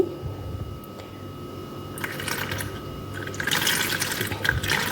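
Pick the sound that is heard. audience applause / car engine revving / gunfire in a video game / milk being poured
milk being poured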